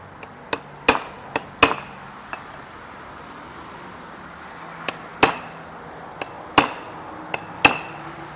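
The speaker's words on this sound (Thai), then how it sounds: "ค่อย ๆ ตอกเลาะมา เลาะมานะฮะ" A hammer strikes repeatedly in irregular bursts on tightly packed material in an industrial fan, some taps light and some heavier, close by with short pauses between groups of blows.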